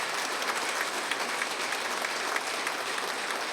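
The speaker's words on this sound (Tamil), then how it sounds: "உண்மையிலேயே அதுக்கு ஒரு கைத்தட்டல் கொடுங்க, நன்றி சொல்லுங்க." Steady, dense applause from an audience at a spiritual book launch event, continuous and fairly even throughout with no voices standing out.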